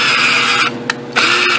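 A cheap handheld power drill with a small bit drills out a broken bolt, whining loud and close in two short bursts separated by a brief pause.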